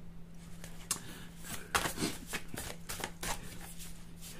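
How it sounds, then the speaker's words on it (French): Oracle cards being shuffled and drawn, a series of soft crisp riffles and flicks in quick irregular bursts, close and quiet over a faint steady hum. "nous allons procéder au tirage de 4 cartes"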